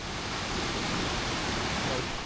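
Steady roaring rush of a waterfall on a fell in the Lake District near Langdale, a loud broadband wash that holds constant throughout with no voices.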